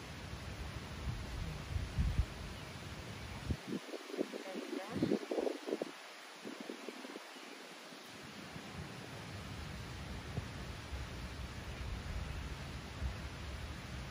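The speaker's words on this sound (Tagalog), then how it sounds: "Mahangin lang. Mahangin guys." Steady wind blowing through peony and clematis plants, a broad rushing hiss with rustling, and a voice speaking briefly partway through.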